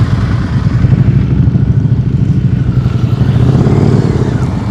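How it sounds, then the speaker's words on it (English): A motorcycle engine idles and putters close by during slow-speed riding practice, its steady low rumble dipping slightly as the throttle eases off, with no other sounds over it. "I hear your throttle going down"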